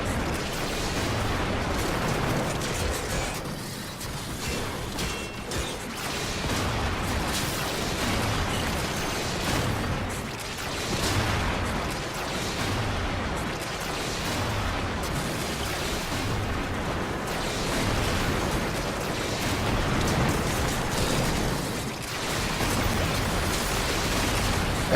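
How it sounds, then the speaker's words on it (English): Video game mission battle, a dense continuous wash of explosions and rumbling booms at moderate level, with no clear gaps for the full stretch. "Everything is explosions and upside down."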